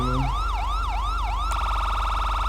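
Fast, repeated rising-and-falling third-stage siren whoops from a police car in a police role-play video game, abruptly switching to a rapid high warble, loud and continuous.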